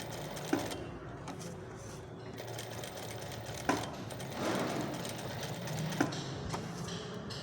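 A sewing machine stitching a blouse runs in a continuous close whirr, with a few sharp clicks spaced out as the fabric is handled, and no voices.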